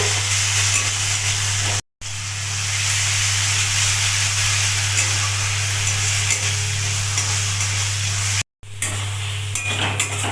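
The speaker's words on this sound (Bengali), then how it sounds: "আদা রসুন লঙ্কা জিরে হলুদ একসাথে দিয়ে দেব দিয়ে দিয়েছি ভালো করে একসাথে মশলা কষিয়ে নেব" Ground ginger, garlic, chili, cumin and turmeric masala sauté in hot oil in a pan after onions, producing a constant hissing sizzle with stirring, a low steady hum beneath and two brief dropouts.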